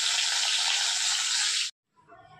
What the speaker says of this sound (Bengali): আর এই যে মাথাটা ভাজা হচ্ছে